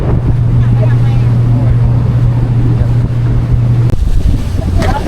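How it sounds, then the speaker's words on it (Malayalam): A motorboat nears Koh Larn island off Pattaya, its engine droning loud and steady under heavy wind buffeting before the tone cuts out near the end, leaving wind and water noise. "നമ്മുടെ ബോട്ട് ഏകദേശം ഐലൻഡിന്റെ അടുത്തോട്ട് എത്താറായിട്ടുണ്ട്."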